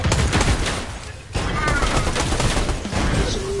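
Loud, sustained gunfire from the video game Fortnite, a dense rattle of rapid shots that briefly drops out and then resumes with close impacts.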